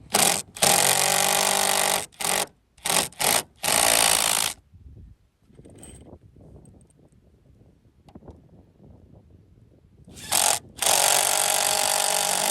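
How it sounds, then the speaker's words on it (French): A cordless impact driver drives stainless steel screws into wood while mounting solar panel roof hooks, with several loud hammering bursts at the start, a quieter stretch of handling noise, then another long burst at the end. "Moi je mets ça à la visseuse à choc, comme ça rentre très très facilement dans le bois."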